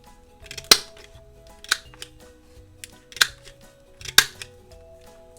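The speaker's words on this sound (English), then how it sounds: "I'm going to use this chomper tool I got and round the corners." A handheld corner rounder punch chomps through paper corners, four sharp crunching snips at a steady pace, close and loud with quiet handling noise in between.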